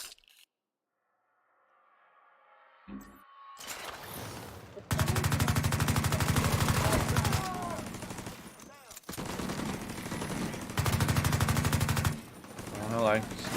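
Rapid automatic gunfire from a deployed turret in Tom Clancy's The Division 2 rattles in two loud sustained bursts, with quieter gunshots and game effects in between and a short silent stretch at the start.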